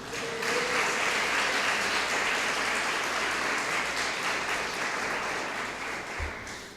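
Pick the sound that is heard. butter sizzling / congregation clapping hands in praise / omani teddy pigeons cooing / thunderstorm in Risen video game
congregation clapping hands in praise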